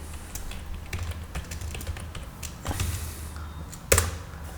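Keys clatter on a computer keyboard while a project name is typed at a setup prompt: scattered taps in short bursts, a louder cluster of keystrokes near the end, no voices.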